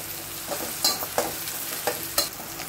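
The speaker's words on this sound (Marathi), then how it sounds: "आता 5-10 मिनिटं चांगला टमाटर तेलामध्ये शिजू दे" Chopped tomato cooks in hot oil in a pan for a prawn biryani, giving a continuous close sizzle with several regular stirring scrapes.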